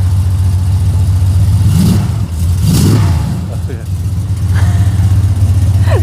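A 1956 Chevy with glass pack exhaust idles with a deep, loud rumble, then gets a couple of short revs that swell and fall back, close by, with people talking over it.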